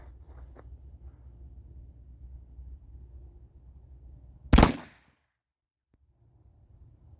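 An 1842 British Navy percussion pistol goes off after a long hang fire with damp powder: a low, quiet rumble, then a single sharp, loud blast that dies away into near silence.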